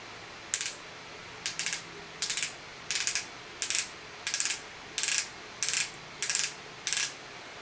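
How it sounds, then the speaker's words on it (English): A liquid highlighter bottle's pump gives ten short, crisp clicks at a steady rhythm, close and quiet against a faint hiss, with no talking. "Looks like you have to pump it up."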